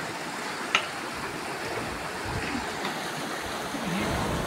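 A broad, steady rush of fast-flowing floodwater in the Godavari river fills the scene, constant and loud, with a faint voice briefly in the background.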